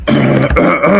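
A man clears his throat loudly and close up, a short rasping double hack lasting about a second.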